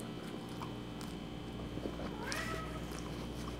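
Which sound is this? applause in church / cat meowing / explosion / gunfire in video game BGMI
cat meowing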